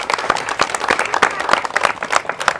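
A crowd at a Nava Durga festival celebration claps, with distinct uneven hand claps rising and falling over a short stretch, close by, with some voices mixed in.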